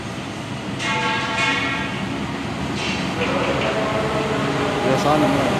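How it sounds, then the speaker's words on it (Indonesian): Argo Cirebon passenger train running straight through a station, a steady rolling rumble with brief squeals and rattles, heard at moderate distance under talk. "Kereta api Argo Cirebon."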